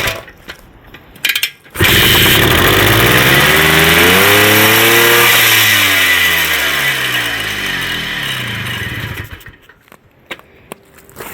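A 1971 Bultaco Alpina 250 motorcycle engine starts up outdoors in the cold, catching quickly and running loud and close with rising and falling revs before settling back down.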